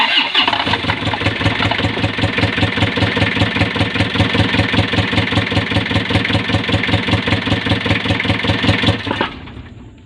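An Isuzu 4JG2 diesel engine runs after a fan belt replacement. It gives a loud, steady, rapidly pulsing idle for about nine seconds, then cuts out abruptly.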